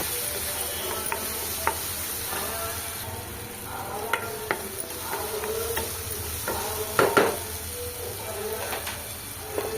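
Chili skins being stirred and mixed in a hot pan for Rayalaseema uggani: a steady sizzle with scattered scraping clicks of the spoon, close and moderately loud, with a faint voice underneath.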